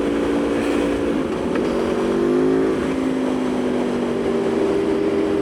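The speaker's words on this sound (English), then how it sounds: "This bike, this Tuono and the R1, they sound so similar." An Aprilia Tuono V4 motorcycle engine runs on board a ferry, a steady droning hum with a slight pitch dip in the middle, loud and continuous against a broad wash of background rumble.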